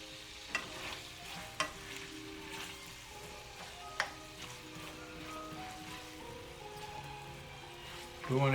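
Onions frying in a little oil in a pan for Chinese curry chicken, a steady soft sizzle with a few sharp scrape and stir knocks of the utensil scattered throughout, close up, with a louder burst near the end.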